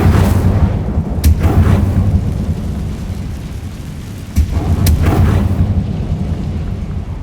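Fiery Incendio spell blasts from Hogwarts Legacy boom out in two heavy bursts, each a sharp crack followed by a rumbling roar that dies into a dull background wash.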